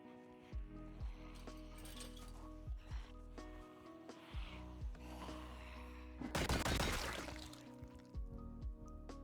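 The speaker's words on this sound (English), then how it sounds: "I heard the shots of a survivor nearby" Gunshots from a nearby survivor in Project Zomboid ring out as a string of sharp, spaced cracks, followed by a louder, denser burst of shots near the end, all over a low steady background.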